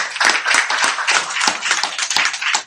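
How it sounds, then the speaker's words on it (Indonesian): Applause from a church congregation, a dense run of hand claps that fills the space steadily without a break, fairly close and loud, with no talking over it. "Tepuk tangan."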